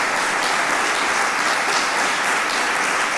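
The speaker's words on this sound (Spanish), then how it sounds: "Pido también, por favor, un fuerte aplauso para el Padre Ángel," An audience at an inauguration event in Oviedo, Asturias applauds Padre Ángel with dense, steady clapping that fills the whole moment, loud and sustained, with no speech over it.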